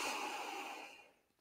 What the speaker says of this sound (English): So let me take a big breath here.